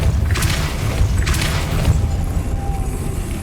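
A Depulso spell effect in the video game Hogwarts Legacy, loud booming blasts with deep rumbling thuds and a couple of bright bursts early on, dense and continuous throughout.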